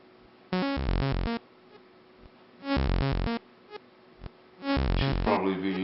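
Prototype µ-modular synthesizer with a longer envelope attack, giving three separate buzzy note bursts that swell in rather than striking, each held about a second, with a few faint clicks between and a rougher tone at the end.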